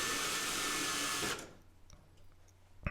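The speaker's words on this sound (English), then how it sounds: "So I'm using my drill." A power drill unscrewing a wall plug socket from its box whirs loudly at close range for over a second, then stops, followed by quiet handling noises and a small clack.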